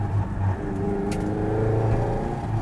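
Nissan 240RS Group B rally car with its FJ24 engine, a loud close engine note held at a steady rev with a slight rise, no talk over it.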